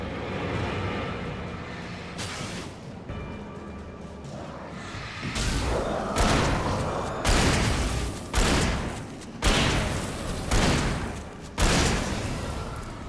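Gunfire in the Alan Wake video game cracks out in a string of loud, sharp bursts spaced a second or two apart, each with a short decaying tail, building over a dim background rumble.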